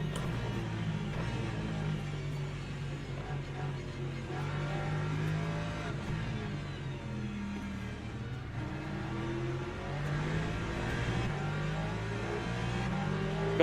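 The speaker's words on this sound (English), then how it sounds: "there's a lot of hypercars going through there" Hypercars in Le Mans Ultimate race past as a continuous blend of revving engines rising and falling in pitch with gear changes, a steady loud motor drone with no voices.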